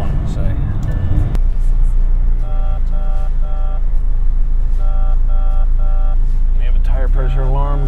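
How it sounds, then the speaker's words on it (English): A McLaren 600LT's tire pressure warning chimes in the cabin, repeated bursts of short electronic beeps in sets of three over a loud idling engine rumble, with someone talking at the start and end. "We have a tire pressure alarm going off, which in this f***ing car sounds like we're launching missiles."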